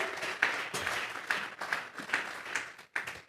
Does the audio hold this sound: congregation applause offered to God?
yes